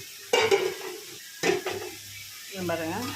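Eggs being sautéed and stirred in a pan for a prawn thokku, heard as two short bursts of scraping and sizzling, followed by a stretch of talk.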